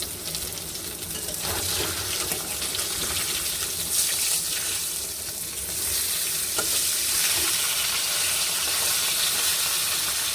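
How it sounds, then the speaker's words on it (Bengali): Pointed gourd (potol) pieces fry in a pan with a steady, close, loud sizzle, stirred now and then, with no voices over the hiss. "পটলগুলো ভেজে নিচ্ছি সাইডে একবারে, তাড়াতাড়ি হবে।"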